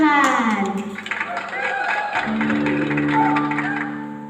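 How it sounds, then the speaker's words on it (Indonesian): Clapping fills an online children's church service, a burst of applause and tapping heard over a held musical tone and voices, loud and close throughout. "Berikan tepuk suara yang meriah buat Tuhan."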